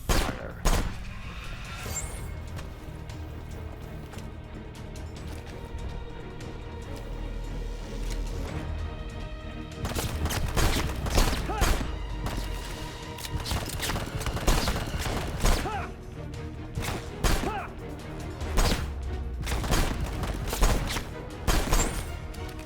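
Soldiers open fire in the video game Left Alive, with bursts of gunfire cracking out repeatedly over a sustained tonal score, growing denser and louder in the second half.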